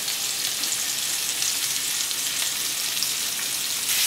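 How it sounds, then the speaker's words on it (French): Small pieces of potimarron squash fry in a hot pan with a steady, close, continuous sizzle that swells slightly near the end, with no talking. "Vous faites revenir les petits morceaux de potimarron."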